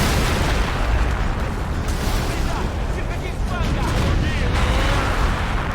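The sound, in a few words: anti-tank gun firing rounds, video game Men of War: Assault Squad 2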